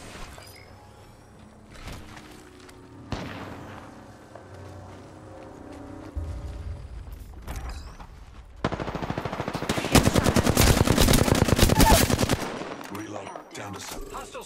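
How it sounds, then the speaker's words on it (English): Sustained automatic gunfire in the video game Apex Legends, with a dense, loud burst of rapid shots building in the second half over scattered game effects and character voice lines. "Getting shot at."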